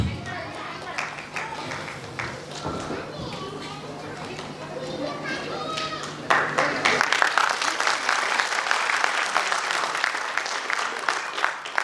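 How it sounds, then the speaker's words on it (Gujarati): An audience at a stage programme in Kalol claps, first under a voice speaking over a hum, then swelling into dense, continuous applause in the second half. "આપણે એમને તાળીઓથી વધારવાનું ચાલુ રાખીએ પાણી પીએ ત્યાં સુધી."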